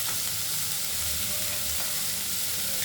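Tomatoes and salt frying in a pan while being stirred, a dense, continuous close sizzle with faint scraping underneath, steady from start to end.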